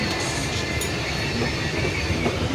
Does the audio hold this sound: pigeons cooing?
no